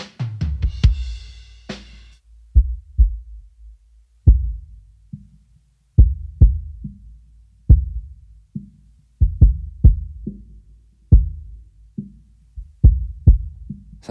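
A drum hit repeated in a loose rhythm, heard through a narrow boosted SSL EQ band around 200 Hz that gives each thud a boomy, resonant ring.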